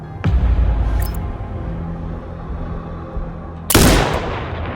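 Two sharp, loud sniper rifle shots in the video game Sniper Ghost Warrior Contracts 2, one near the start and one near the end, each with a booming low report and a rumbling decay between them.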